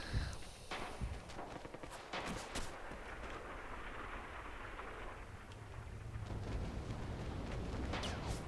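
Artillery fire in a video game: scattered deep booms and sharp cracks over a continuous rumbling wash, fairly faint and distant, with no speech.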